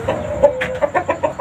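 Village chickens, including local kampung hens, Bangkok-cross, Pama, KUB and Arab breeds, cluck repeatedly in a farm coop, a run of short rhythmic clucks close by with a steady tonal note beneath.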